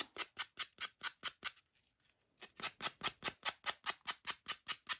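A small wooden craft stick being sanded by hand: a rapid, regular run of rasping back-and-forth strokes, close and crisp, pausing briefly before the strokes resume at the same even pace.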